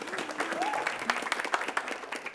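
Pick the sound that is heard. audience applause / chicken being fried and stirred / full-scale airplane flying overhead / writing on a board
audience applause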